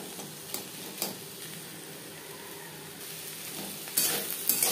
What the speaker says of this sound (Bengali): নারকেলের সাথে কাঁকরোল 3-4 মিনিট রান্না করব।